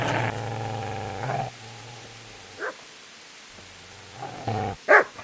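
A dog in the medieval game Kingdom Come: Deliverance growls in low sustained rumbles broken by pauses, ending with a couple of sharp, louder barks at close range.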